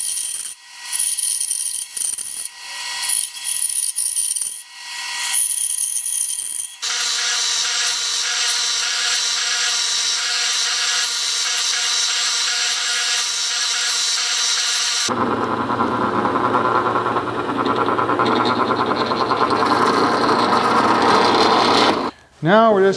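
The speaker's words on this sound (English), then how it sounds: "I'm just gonna go cut that out on the bandsaw" A bandsaw cuts walnut for a spinning top handle: a steady mechanical whine with sustained tonal bands, then a harsher, broadband cutting roar, all loud and close with no one speaking.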